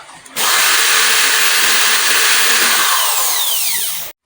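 A borrowed angle grinder used in a living-room renovation starts abruptly and runs loud and harsh for nearly four seconds, a grinding roar with pitch sweeps near the end before cutting off.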